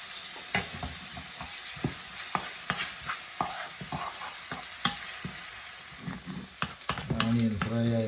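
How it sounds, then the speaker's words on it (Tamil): Onions fry in oil with bay leaf and salt, a steady sizzle broken by sharp scraping stirs, with a brief voice-like sound near the end. "ஆனியன் ஃப்ரை ஆகி வருது."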